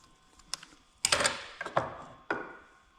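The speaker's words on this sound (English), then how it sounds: "Take the kickstart out." A kickstart is pulled from a Yamaha XS750 motorcycle engine during teardown, giving a few sharp metallic clicks and clunks, with a louder cluster of scraping rattles in the middle, close by and without talk.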